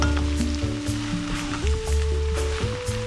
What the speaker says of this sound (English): my noodles just going to keep giving it a nice good stir until it's done